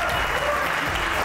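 A studio audience at a Nickelodeon cooking show applauds in a short burst of clapping, with voices mixed faintly underneath.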